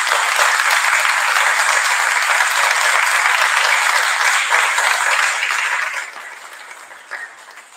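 Congregation in a church applauding a newly married couple at their wedding, a dense, steady wash of many hands clapping that holds evenly for several seconds, then thins and fades toward the end.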